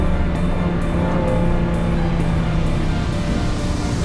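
A Lamborghini driven at high speed on a Montreal street, its engine holding a steady loud drone with strong road and wind roar inside the cabin, no voices.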